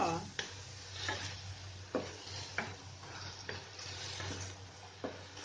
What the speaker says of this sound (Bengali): আদা রসুন বাটা দিয়ে এটাকে এখন ভালোভাবে কষিয়ে নেব